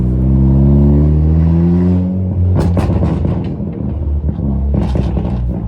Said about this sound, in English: You guys probably just want to hear the car too.